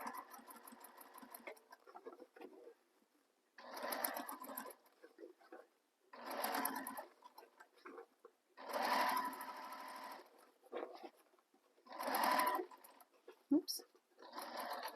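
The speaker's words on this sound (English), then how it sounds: "make sure you're staying to the outside of your original stitching." A sewing machine stitches around a curve in a handbag, running in several bursts of a few seconds each with pauses between them, while a person talks quietly in the gaps.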